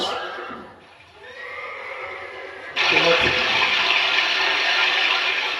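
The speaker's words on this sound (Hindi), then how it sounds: "घोड़ा का आवाज" A horse whinnies early on at a Maithili Kabir Nach folk stage performance, and a loud, noisy rushing sound then takes over and continues to the end.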